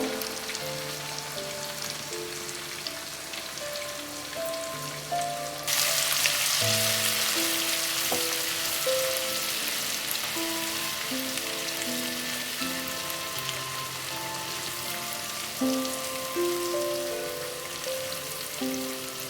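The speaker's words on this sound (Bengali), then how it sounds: "বেটে রাখা মশলাটা এবার আমি ওই তেলের মধ্যে দিয়ে দিচ্ছি।" Ground spice paste hits hot oil with onions, setting off a steady, crackling sizzle that jumps louder after a few seconds and keeps bubbling and spitting, alone without voices.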